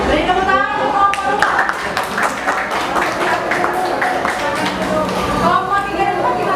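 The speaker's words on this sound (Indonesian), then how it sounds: "Beri tepuk tangan untuk kelompok" A classroom of students claps for a presenting student group in a chemistry lesson, a dense patter of many hands sustained for several seconds with some voices mixed in.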